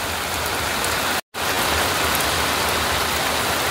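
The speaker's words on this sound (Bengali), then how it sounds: "এখনো প্রায় 1 ঘন্টা বৃষ্টি চলছে।" Rain has been falling steadily for about an hour, drumming on surfaces with a dense, unbroken hiss that cuts out for a moment, then returns just as strong.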